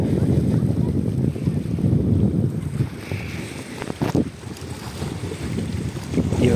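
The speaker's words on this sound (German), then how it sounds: "Der Wind weht." Wind blowing along a stony, rocky shore by cold water near a harbor and beach, a steady rushing roar with microphone buffeting and gusts, with faint waves underneath.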